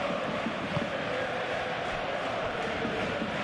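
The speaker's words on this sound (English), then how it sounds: "the crowd are reacting to that now" A steady stadium crowd roars and murmurs at a Premier League match between Liverpool and Fulham in a football video game simulation, a continuous dense wall of crowd noise that holds throughout.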